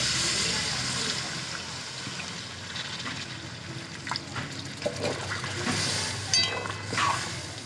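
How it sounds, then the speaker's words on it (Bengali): Water pours into a pan of thin chicken curry with potatoes, a steady splashing stream that runs for several seconds, then settles into scattered clinks and small knocks of the pan. "আর একটু নাড়াচাড়া করে জল দিয়ে দেবো।"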